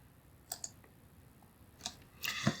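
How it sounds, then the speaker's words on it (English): A computer mouse clicking the Maximize button in Excel 2021 gives a few sharp, quiet clicks: a pair early, then a couple more near the end, close and faint over a low hiss. "I'm going to click on the Maximize button."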